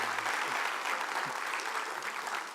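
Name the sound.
audience clapping politely, 'British clapping'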